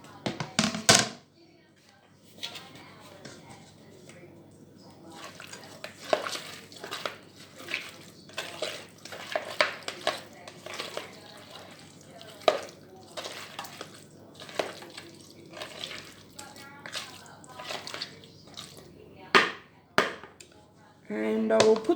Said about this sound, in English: Mix all that in. Mix in the sausages.